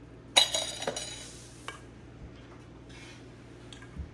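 A spoon stirs lapsi in a pot after ghee and sugar go in, giving a sharp metallic clank near the start, a few lighter scrapes and taps after it, then quiet with faint clinks.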